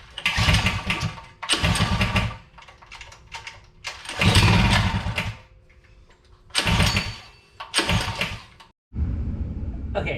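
A brand-new engine on a Rascal Lite mini bike is pulled over repeatedly, giving a series of short, loud cranking bursts separated by pauses; it fails to catch while the fuel petcock is still closed.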